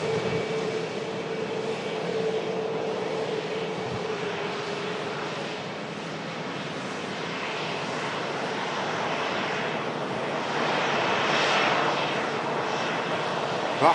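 Saudia Boeing 787-10 Dreamliner jet departing, a broad steady engine roar at a distance that holds for the whole stretch and swells slightly toward the end.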